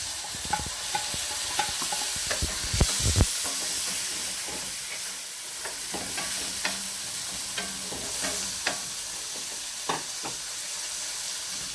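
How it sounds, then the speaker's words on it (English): Tomatoes stirred into browned onions frying in a pan for chana achari dal, a loud steady sizzle and hiss with repeated scraping clicks of the spoon, busiest early on, with no talking. "As you can see, the onion is now nice and brown, so I'm gonna add tomatoes to it."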